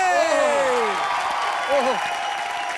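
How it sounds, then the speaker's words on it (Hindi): Studio audience applause in a Hindi comedy entertainment show, steady and broad beneath gliding musical tones and a short vocal phrase. "जबरदस्त तालियां"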